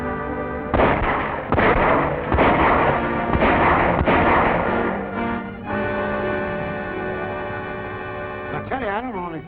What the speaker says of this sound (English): then let them have it. I'll fire the first shot.